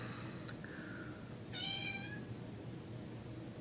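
A cat gives a couple of short mewling meows, one thin and drawn out, the next a brighter rising cry, fairly faint against a constant hiss of room noise.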